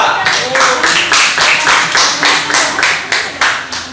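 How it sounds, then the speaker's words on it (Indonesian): A class claps for a group of pupils called to the front, a steady rhythmic run of hand claps in even beats, close and fairly loud, with a few voices mixed in underneath. "tepuk tangan buat kelompok"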